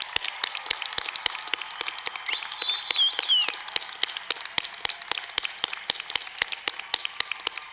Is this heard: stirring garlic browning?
no